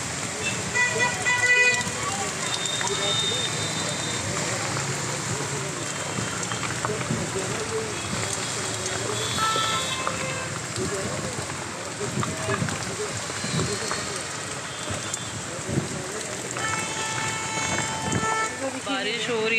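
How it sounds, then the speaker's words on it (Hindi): Heavy monsoon rain pours down on a street near a hospital in Okhla, a steady dense hiss filling every moment, with passing traffic and short horn toots mixed in and voices talking underneath. "बहुत गंदी बारिश हो रही है"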